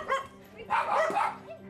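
A dog barks and yips in a few short bursts, with some whimpering, fairly close and moderately loud.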